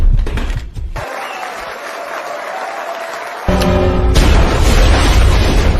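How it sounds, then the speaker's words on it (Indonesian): A time bomb detonates in a film scene, a low booming burst followed by sustained rumbling debris and roar that swells loudly near the end. "bom waktu yang Gio siapkan pun akhirnya meledak"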